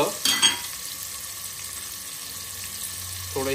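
Onion and garlic hitting hot oil with asafoetida for a spicy black-masala mutton dish, giving a loud initial crackle followed by a steady, even sizzle of frying throughout, with no talking.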